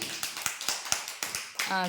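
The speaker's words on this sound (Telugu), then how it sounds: "వెరీ గుడ్ క్లాప్స్ కొట్టండి అన్వికాకి" Children in an anganwadi preschool clap for a classmate, giving eight or nine evenly spaced claps at a moderate, close level, and a voice starts speaking as the clapping ends.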